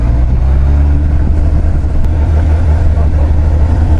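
Steady, loud engine drone from a 100 hp motorcycle as it accelerates, low rumbling and continuous with wind noise, a rider speaking faintly underneath.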